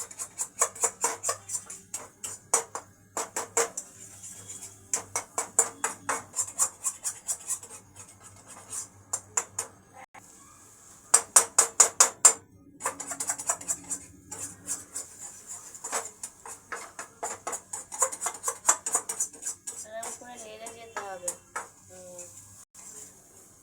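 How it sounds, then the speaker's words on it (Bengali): Egg bhujia with tomato, onion, chilli, coriander and carrot is stirred in a pan, with bursts of quick metallic scraping and tapping separated by short pauses and a faint background voice. "এটা ভালো করে নাড়তে হবে।"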